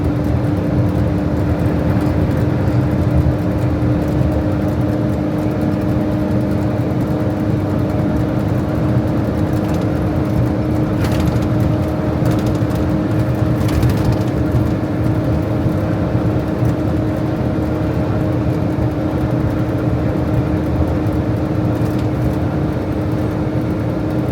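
A truck cruises steadily on the newly built Gympie Bypass highway, speed-limited to 100, with a constant loud engine drone and road rumble throughout and no break or change.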